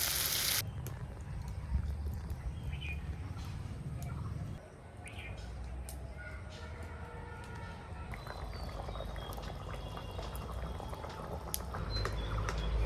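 Water poured into a simmering hilsa fish curry with mukhi, a continuous bubbling and liquid rush close up, steady throughout with a brief dip midway.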